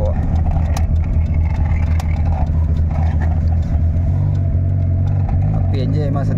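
A Perodua Kancil engine fitted with L2S pistons runs steadily with a loud, close, low mid-range drone and a slight rise in revs, while a voice talks over it.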